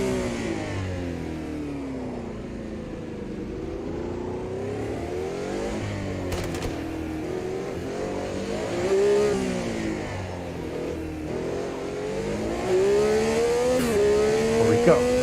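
A race car engine in the Automobilista 2 racing game revs and shifts through gears on a drying wet track, a continuous loud whine rising and falling with brief upshifts, under occasional commentary.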